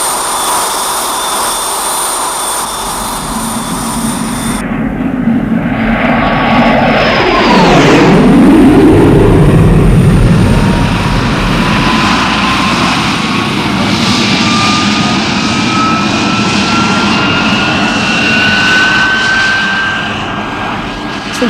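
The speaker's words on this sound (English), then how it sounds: "The pilot is coming in for the low-level speed run now" A jet aircraft roars in on a low-level speed run, its engine noise sweeping sharply downward in pitch as it passes close overhead, then a loud, sustained rumble and rising whine continue as it levels out and climbs toward Mach 4.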